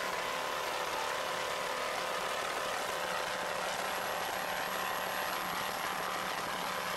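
A brand-new B Class offshore racing boat runs its motor at sea off Montauk, a continuous, fairly distant, even drone with no talking over it.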